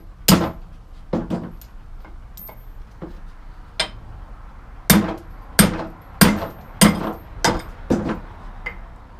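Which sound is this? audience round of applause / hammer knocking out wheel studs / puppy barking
hammer knocking out wheel studs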